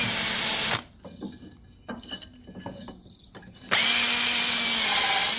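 A power drill whines loudly and steadily, elongating holes in a walnut table, stops for a few seconds of faint scraping and knocking, then starts up again at full speed.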